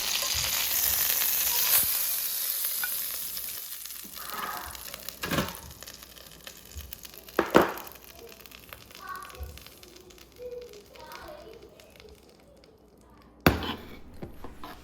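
Beef tenderloin sizzles quietly in a hot pan while being basted, a soft continuous frying hiss broken by a few sharp clinks and scrapes.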